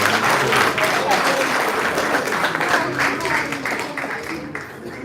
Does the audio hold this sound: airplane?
no